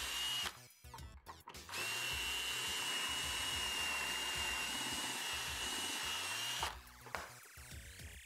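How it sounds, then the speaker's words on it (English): A power drill bores pocket holes into wooden boards through a Kreg Jig, giving a loud sustained high whine close by for several seconds. Short bursts of revving and handling noise come before and after it. "putting two pocket holes on each end of every board"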